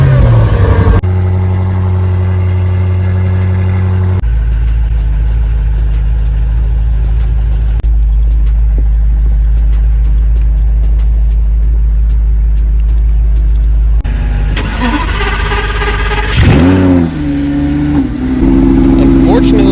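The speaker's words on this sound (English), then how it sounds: "A little cold start." A car engine cold-starts and settles into a loud, steady idle with a deep, throbbing drone. It holds for several seconds, then gives a short burst of revving and shifting engine tones near the end.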